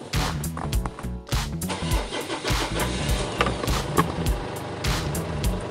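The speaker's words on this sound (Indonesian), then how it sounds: "kita coba nyalakan mobilnya dan kita lihat mesinnya seperti apa" A Ford Everest diesel SUV engine cranks and fires up, then runs with a rough, loud clatter and repeated bursts of revving close by.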